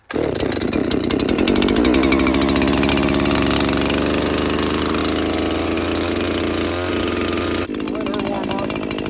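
An Echo CS-590 60cc chainsaw with a modified air filter idles loudly up close while warming up, a steady buzzing two-stroke putter with a brief shift in tone near the end.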